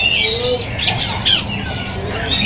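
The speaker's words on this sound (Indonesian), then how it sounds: "Burung spek gacoran dari panca warna impor" An imported panca warna songbird sings at a bird market, bursts of bright chirps and trills close by over a busy market background, with no talking.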